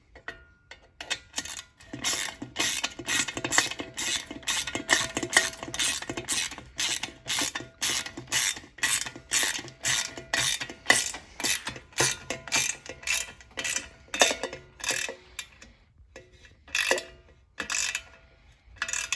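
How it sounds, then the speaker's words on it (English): A socket wrench ratchets repeatedly while tightening a bolt on a motorcycle fender, with rapid clicking bursts in an uneven back-and-forth rhythm, close and clear, continuing for the whole span with brief pauses between strokes. "take your 5mm and then your socket or wrench in 10mm. Tighten this down."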